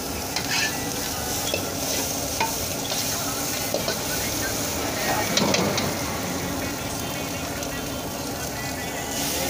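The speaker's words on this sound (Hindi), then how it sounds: "ये थोड़ी सी चॉप्ड कैरेट्स, अब इसको अच्छे तरीके से फ्राई करेंगे ताकि जो फ्लेवर है तंदूरी चाउमीन का वो बिल्कुल एकदम बढ़िया आना चाहिए।" Chopped carrots frying and being stirred for tandoori chowmein at a cafe's coal-fired stall, a loud, continuous sizzle with scraping and clatter, and people talking over it in a busy, noisy setting.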